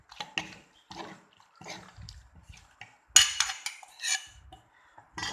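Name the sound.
stirring Thai green mango salad ingredients together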